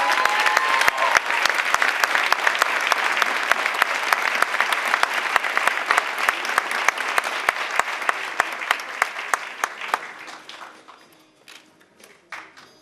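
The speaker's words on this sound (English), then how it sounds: "Please give her a round of applause" A roundtable audience gives a warm round of applause, loud and dense claps sustained for about ten seconds before thinning out and fading to a few scattered claps.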